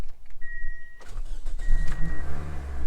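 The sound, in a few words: Toyota Matrix engine cranking and starting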